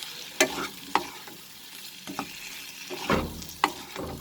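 Potatoes and tomatoes are stirred in a pan over a medium flame, with a soft sizzle underneath and a handful of scraping stirring strokes at irregular intervals.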